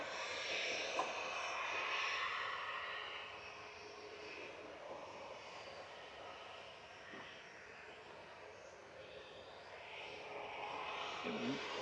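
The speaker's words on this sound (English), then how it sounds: "Ryanair is off to Bratislava." A Ryanair airliner bound for Bratislava taxis out and takes off at Manchester Airport, its jet engine roar a steady, distant wash that swells slightly at the end.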